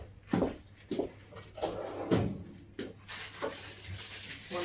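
Wooden drawer sliding open and shut in a home garage while fetching a side stand and bolts for a Suzuki DR200 motorcycle, several clunks and rattles over about five seconds, fairly close, no talk.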